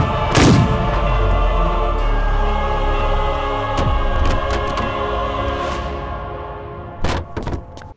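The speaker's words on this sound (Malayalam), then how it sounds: "അതിന് പ്രതികാരമായി ദേവൻ അലോഷിയെ വെടിവെച്ചു കൊന്നു." A loud gunshot-like boom from a Malayalam film scene, followed by a decaying rumble and a couple of sharp thumps near the end, with a music bed underneath.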